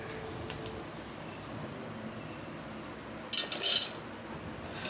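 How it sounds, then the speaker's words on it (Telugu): Roasted gram dal (putnala pappu) is tipped into a dish for homemade peanut chutney, making a short, bright rattling clatter of dry grains against the vessel over a quiet kitchen background. "అయితే పుట్నాల పప్పు వేస్తున్నాను"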